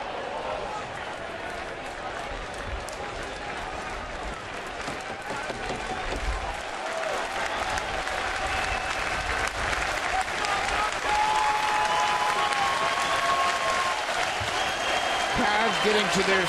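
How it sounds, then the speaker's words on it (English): A large baseball stadium crowd of over 29,000 applauds and cheers steadily as fans rise to their feet late in a tense at-bat, a dense, continuous roar of clapping that swells louder toward the end. "Crowds getting to their feet, encouraging David Polley to end it"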